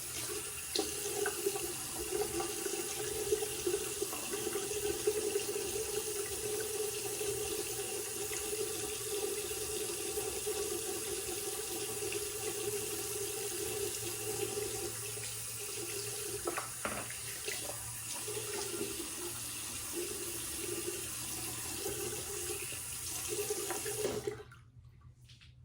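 Water runs steadily from a bathroom tap into a sink while a razor is rinsed, a continuous close hiss lasting about twenty-four seconds before cutting off abruptly near the end.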